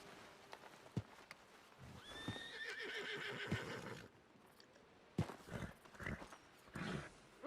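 A horse whinnies and snorts in Red Dead Redemption 2 after its reins are pulled, a rising neigh over faint hoof clops and ambient game noise.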